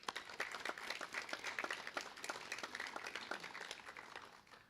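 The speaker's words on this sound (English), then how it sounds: "Please join me in thanking them with a round of applause." Audience applause at a high school National Honor Society induction ceremony, thanking the organizers: a steady spread of many hands clapping throughout, moderately distant and fairly soft, with no talk over it.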